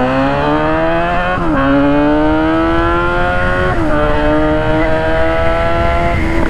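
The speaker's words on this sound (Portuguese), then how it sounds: "bora acelerar e ver o que essa moto realmente é capaz" A Suzuki GSX-S motorcycle engine revs hard and close, its pitch climbing steadily through several gear pulls with brief dips between, loud and continuous with no talking.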